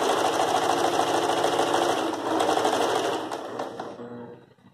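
A sewing machine stitches an applique border onto a dish towel, a loud close continuous hum with rapid needle chatter that slows and fades out toward the end.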